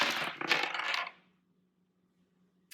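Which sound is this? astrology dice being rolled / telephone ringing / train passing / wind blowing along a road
astrology dice being rolled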